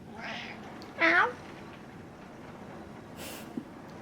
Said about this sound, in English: He meows without the M.